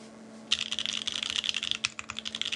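Rapid typing on a Xeno mechanical keyboard fitted with a POM plate and EPBT ABS keycaps, a steady run of sharp, clacky keystrokes close up, with no talking.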